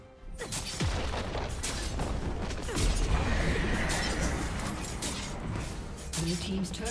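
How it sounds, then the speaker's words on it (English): A turret in League of Legends is destroyed with a heavy crumbling crash and creaking mechanical debris, a dense rumbling blast that sustains for several seconds amid busy game effects. "Blue team's turret has been destroyed."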